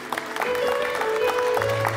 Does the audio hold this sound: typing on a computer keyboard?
no